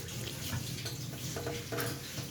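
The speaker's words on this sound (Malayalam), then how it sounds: "ഇവിടെ നിന്ന് വെള്ളം വരും" Tap water in a flat runs in a steady, moderately loud gushing stream with slight splashing variation and no talk.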